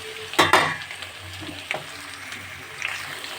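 Vegetables stirred and frying in a home kitchen pan, with a couple of loud scraping stirs near the start and a few lighter ones later over a soft, steady sizzle.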